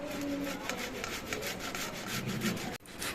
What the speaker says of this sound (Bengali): এবার আমি একটা ঘষনি নিয়েছি, এই ঘষনি দিয়ে আলুগুলো ঘষে নেব।